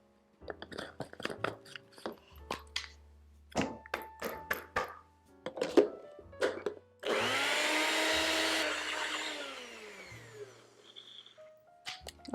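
Blender mixing a thick plant-based ice cream cake filling, first scattered clunks and scraping taps, then one loud steady whir of a few seconds that winds down at the end, heard close in a kitchen.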